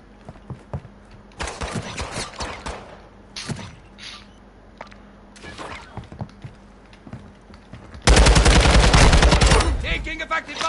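Rapid bursts of video game gunfire crackle through the first half, then a loud, dense volley of shots and blasts erupts near the end, close and sustained over faint background sounds.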